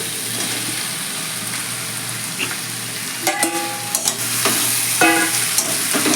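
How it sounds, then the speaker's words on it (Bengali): A katla fish head and fried potatoes sauté with spices in a pan, giving a continuous close sizzle broken by several sharp stirring clinks and scrapes. "মাছের মাথাটাকে খুব ভালো করে মশলার সঙ্গে মিশিয়ে একটু কষিয়ে নেব"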